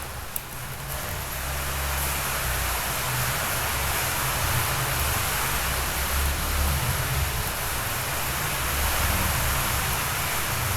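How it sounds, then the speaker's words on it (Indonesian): Steady broadband rain hiss, loud and continuous with a low rumble underneath, heard alone without any voices. "Kayaknya hujan."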